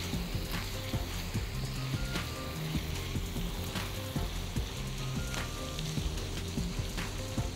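Minced meat fries in a pan for bolognese, a dense continuous sizzle and crackle with scattered clicks and scraping taps from stirring, close up and without talk.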